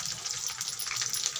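Cumin, mustard and nigella seeds with garlic, green chilli, onion and bay leaf frying in hot oil, a soft continuous crackling sizzle with small spitting pops, fairly quiet and close, no talking.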